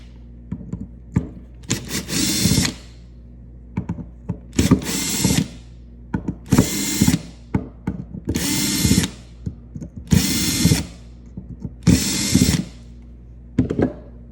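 A power driver with a T20 bit spins out carburetor screws on a KA100 kart engine, with six separate whirring bursts of a couple of seconds each, spaced by short pauses and light clicks of handling.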